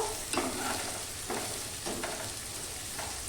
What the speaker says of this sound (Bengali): পেঁয়াজ কুচি একটু ভাজবো